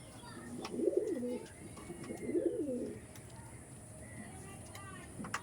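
Two soft, low coos from Pakistani Teddy pigeons roll out a second apart, close by, over a faint background hiss and a few light clicks.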